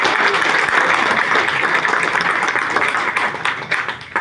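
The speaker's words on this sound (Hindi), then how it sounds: "एक बार जोरदार तालियां होनी चाहिए।" Loud, dense applause from a poetry gathering crowd in Mumbai fills the whole stretch, steady clapping that tapers slightly at the end.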